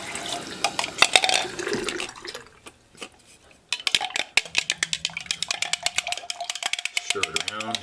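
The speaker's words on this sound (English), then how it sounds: "rinse it off with running water as much as you can." A cheap handheld pH meter rinsed under a running kitchen tap, with water splashing and spattering in bursts and brief clinks of dishes, a short quieter gap midway, and a voice talking over parts of it.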